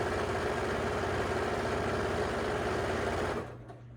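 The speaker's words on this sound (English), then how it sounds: "I'm going to start sewing and do a 1/4 inch." A sewing machine runs continuously, stitching a quarter-inch seam through rolled pillowcase fabric, with a steady fast mechanical hum that stops abruptly near the end.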